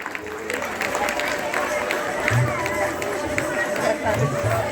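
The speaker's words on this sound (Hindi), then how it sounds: "जोरदार तालियां एक बार और फिर।" An audience at a school annual function claps in a steady burst of applause, with crowd chatter and a voice over the clapping.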